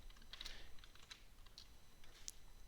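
Computer keyboard typing during a programming session: a few quick, faint keystrokes in loose bursts, close by against a quiet background with no talking.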